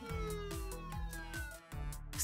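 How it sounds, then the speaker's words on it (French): A toy police car's siren wails at a low level, its tones gliding downward while soft rhythmic thumps repeat underneath. "On a la sirène."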